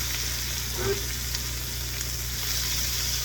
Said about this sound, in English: We're gonna stir our peppers and onions here.